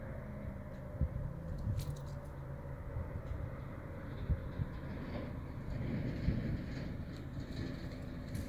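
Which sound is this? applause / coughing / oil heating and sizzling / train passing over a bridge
train passing over a bridge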